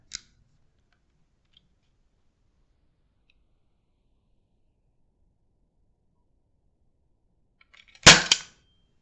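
An Adventure Force Hypershot toy blaster is pulled back, giving one sharp, close plastic snap after long silence, preceded by a faint click at the very start.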